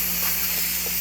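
A pressure canner packed with raw chicken lets off a continuous, loud steam hiss with a low steady hum beneath it.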